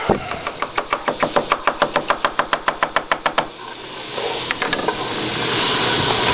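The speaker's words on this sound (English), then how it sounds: "Just give that a quick rough chop." A knife roughly chops ingredients for a pot stew on a board, about twenty quick, close, even knocks in a steady rhythm, then stops as a soft hiss and sizzle from the pot rises.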